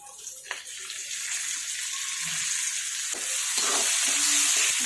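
Coriander frying in oil in a pan for vermicelli upma, a steady close hiss of sizzle with a few stirring scrapes and clinks, growing slightly louder toward the end, no talk.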